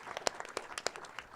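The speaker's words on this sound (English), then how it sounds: "Let's have a huge round of applause for Julianne and for the rest of the cast as well." A small audience claps for actress Julianne Moore and the cast at a film Q&A, a sparse, quiet patter of individual handclaps with irregular spacing.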